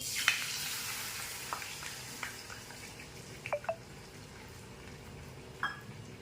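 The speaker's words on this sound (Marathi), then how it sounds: "आणि हे दूध चांगलं गरम करून घ्यायचं आहे आपल्याला. तर तुपामध्ये चांगलं मिक्स करून घ्यायचं आहे." Milk heating with ghee in a pan while being stirred, a soft steady sizzle with a few scattered spoon scrapes and clinks, quiet and close, no talking.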